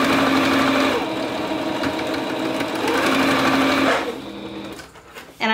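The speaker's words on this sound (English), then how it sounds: "I'm gonna go ahead and sew this end." Sewing machine stitching the end of a fabric scrunchie wristlet, a steady fast whirring run for about four seconds, then slowing and stopping near the end.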